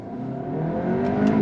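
A 2023 VW Arteon pulls away from a dead stop in first gear, its engine note rising smoothly as it builds revs, steady and close without any talk.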